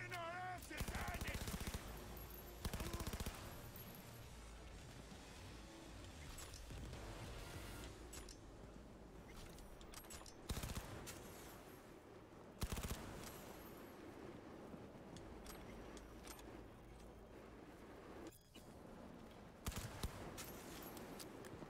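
Rapid video game gunfire rattles in dense bursts of automatic shots, fairly quiet overall, with louder blasts at intervals and occasional talking mixed in.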